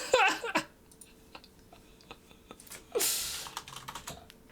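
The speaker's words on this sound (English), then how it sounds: "I'm just typing it." Typing on a computer keyboard gives scattered clicking keystrokes, with brief louder bursts of rustling or shuffling at the start and near the middle.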